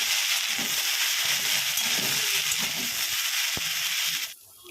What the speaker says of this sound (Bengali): এই যে ঢেঁড়সটা আমার ভাজা হয়ে গেছে, এবার এটাকে নামিয়ে নেব।